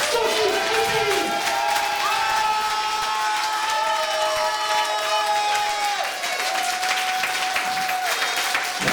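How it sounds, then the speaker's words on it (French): A concert crowd claps and cheers loudly for the performers, continuous dense applause with shouts and whoops on top, sustained throughout at close range. "Applaudissez très fort Sophie et Céline."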